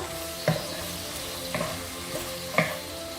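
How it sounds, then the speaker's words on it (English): A prawn stir-fry sizzles steadily in a pan while a utensil stirs it, giving three distinct scraping clacks roughly a second apart over the constant frying hiss, close and clear, with no talking. "Give that a good stir."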